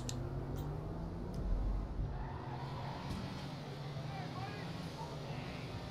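A Lampadati Michelli GT sports car drives in GTA 5 Online, its engine humming steadily at moderate volume while someone talks over it.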